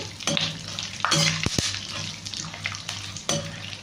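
Raisins frying on a low flame for dry semiya, a bright close sizzle broken by several sharp metal spatula scrapes and knocks against the pan, no talking.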